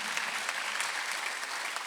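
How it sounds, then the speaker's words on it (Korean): A church congregation at a Sunday worship service breaks into dense, steady applause that fills the room evenly from start to finish, with no speech over it. "박수하세요."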